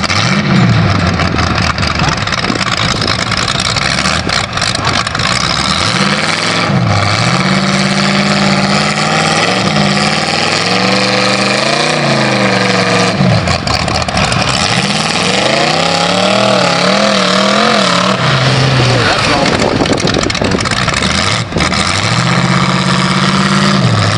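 A loud Cummins diesel mud truck at a bog event idles and revs repeatedly, its pitch rising and falling in heavy, close-up roars over constant outdoor rumble.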